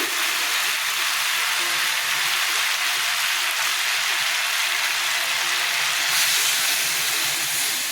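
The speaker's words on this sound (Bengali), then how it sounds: "আমি এখন জল দিয়ে দিচ্ছি" Water poured into a pan of mixed vegetables cooking on the stove gives a steady, loud hiss and sizzle that runs unbroken throughout and swells slightly near the end.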